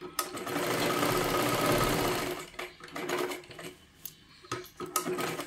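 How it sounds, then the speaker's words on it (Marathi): A sewing machine runs steadily while stitching tucks into a blouse, a loud continuous whir for about two seconds, then shorter bursts and stops with small clicks and handling noises between runs. "हा सुद्धा टक्स आपल्याला अशाच पद्धतीने शिलाई मारून घ्यायचा आहे।"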